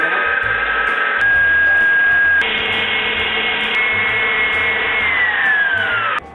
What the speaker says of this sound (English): I have a Cuisinart over here, or actually a KitchenAid over here, and I am going to get those going